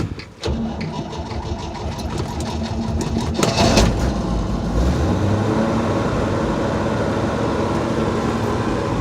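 A 1964 Chevy engine cranks and fires on a cold start, catching after a few seconds and settling into a loud, steady, rough idle up close.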